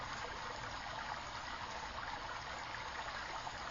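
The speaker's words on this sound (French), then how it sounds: "Écoutez les murmures, les chuchotements, les bourdonnements de l'eau qui cascade, qui glisse." Flowing stream water cascades in a constant, even rush, a soft broadband wash that holds steady throughout with no talking.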